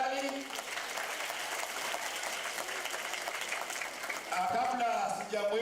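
Audience applause at a polio vaccination campaign launch event, a steady dense wash of clapping across the hall that swells near the end, with voices mixed in.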